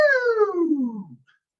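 A voice imitates a falling sonification tone for a y equals negative x graph, a steady 'ooh' gliding downward in pitch for just over a second before fading out, close and clear.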